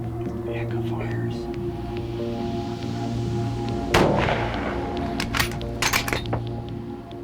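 A single sharp rifle shot during a hunt, loud and close, followed by a brief echo, with quiet whispered talk before and after it.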